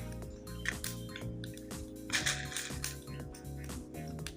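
Mustard seeds and urad dal sputter in a little hot oil for a coconut chutney tempering. A soft, steady crackle carries a few sharper popping bursts.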